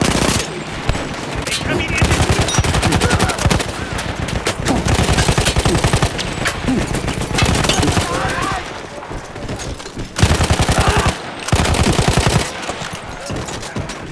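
Machine gun fire from a mounted gun in the World War I game Battlefield 1 rattles in long, loud, sustained bursts, with short gaps between bursts.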